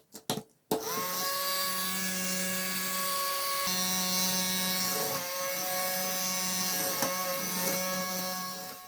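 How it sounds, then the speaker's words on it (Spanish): A small fan-propelled toy car runs with a whirring electric motor and propeller, a steady high-pitched whine after a few brief clicks at the start, with pitch dips and surges as it moves. "Imagínate un vehículo que funciona gracias a un ventilador que lo propulsa."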